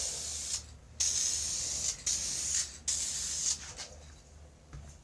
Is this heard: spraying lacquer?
yes